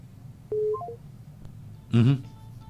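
A telephone gives off a short series of electronic dial-tone beeps, fairly faint in a quiet room, followed by a brief burst of a voice speaking.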